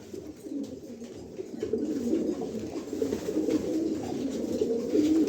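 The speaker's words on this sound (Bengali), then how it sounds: "দুইটা কবুতরই মাসাল্লাহ সেই দেখার মতো এক জোড়া কবুতর" A male and female pigeon, a young pair, coo softly together in a close, steady low murmur that carries on continuously without any talk.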